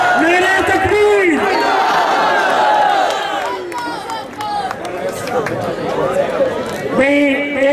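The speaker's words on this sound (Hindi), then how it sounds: "मोहम्मद इदरीस साहब से गुजारिश करूंगा कि आए, ये आज तालियों के बजाय जरा अल्लाह अकबर ही कर दो।" A large crowd at a race championship event in Chiniot, Pakistan, shouts the takbir chant in loud, ragged unison, with voices rising and falling in waves amid general crowd chatter.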